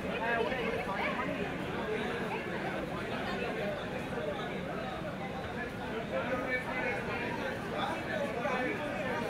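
Heavy crowd chatter fills a packed Howrah metro platform on its opening day, a dense steady babble of many voices with no pauses, loud and continuous throughout.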